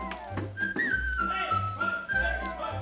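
A bright, clear whistled melody moves through several notes over a steady low accompaniment.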